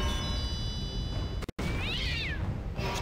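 Cat meowing in Skylanders: Spyro's Adventure, a single rising-then-falling meow over a dense game backdrop with a brief thunk and cut of silence just before it.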